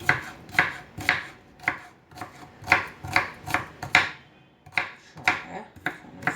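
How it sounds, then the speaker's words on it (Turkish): Steady knife chopping an onion on a board, sharp regular thuds in quick bursts with short pauses, close by and fairly loud. "Bu soğanı da doğradım."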